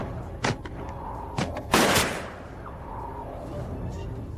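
Several sharp gunshots crack out in a tense armed standoff during a kidnapping rescue, a couple of isolated reports followed by a louder, longer blast, then a low rumbling background.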